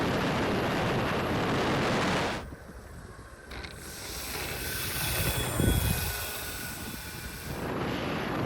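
A small FPV STOL model airplane with a carbon fiber propeller flies past outdoors, a quiet airy whir rising and fading over wind noise, with no talking.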